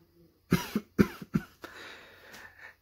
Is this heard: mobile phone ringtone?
no